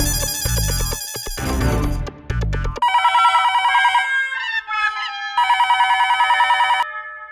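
Landline telephone ringing in a Hindi-language TV comedy, preceded by a brief burst of background music, then several loud, clear bursts of repeated electronic ring tones with short gaps between them, alone with no talk.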